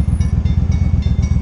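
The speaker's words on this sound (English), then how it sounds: "Yes, it's the train coming." A train passes close by along a road in a reindeer region, its wheels giving a fast, regular clattering beat over a heavy low rumble, loud and steady.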